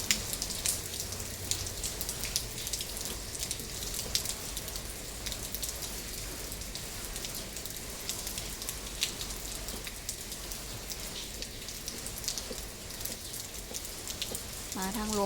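Steady afternoon rain pours down with gusting strong wind, a dense, even hiss of drops on surfaces close around, unbroken for the whole stretch.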